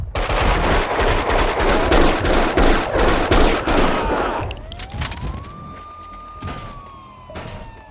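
Sustained automatic gunfire from an Ingram in the PC game Max Payne 2 rattles densely and loudly for several seconds, then cuts out as a rising siren wail takes over.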